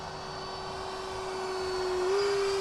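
An FMS Yak 130 model jet flies laps at an airfield, its steady turbine whine holding a constant pitch that rises slightly near the end as it draws closer, loud and continuous with no talk.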